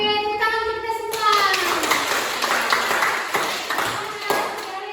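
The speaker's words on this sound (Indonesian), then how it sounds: "tepuk tangan untuk kita semua" A school class claps hands together, distinct sharp claps ringing out amid lively children's voices and chatter, loud and close, after a tonal ping at the start.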